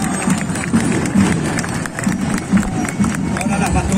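A crowd applauds along a civic student parade route in Guayaquil, a dense, loud wash of clapping and crowd noise with faint rhythmic thumps underneath.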